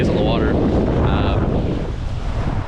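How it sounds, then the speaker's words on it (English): Wind buffets the microphone on a lake during a canoe trip, a loud, rough roar with gusty low rumble and a hint of water movement, continuous throughout, with a brief voice-like whine at moments. "It's pretty windy."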